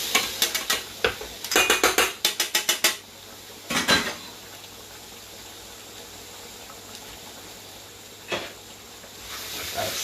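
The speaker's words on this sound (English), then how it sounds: "Let it stir." Rice being stirred in a cooking pot with a metal utensil for chicken biryani: a quick run of rhythmic clanks and scrapes against the pot, then a couple of isolated knocks over a quiet background.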